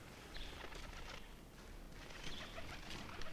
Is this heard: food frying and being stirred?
no